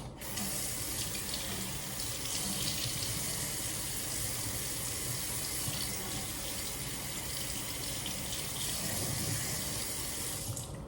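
Tap water runs steadily into a sink to rinse something off, a loud continuous splashing gush lasting throughout with no pauses.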